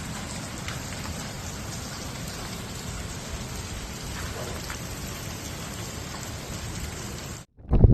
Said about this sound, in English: A powerful storm hit southern Germany on Tuesday night.